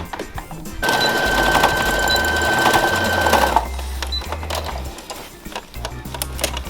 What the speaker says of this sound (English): I'm gonna sew down that seam one more time